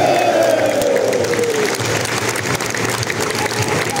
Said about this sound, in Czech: U potlesku zůstaňme